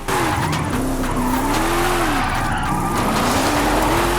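A Mercedes E55 AMG wagon engine revs hard and steadily while tires squeal continuously, a loud drifting run with the engine note rising and falling.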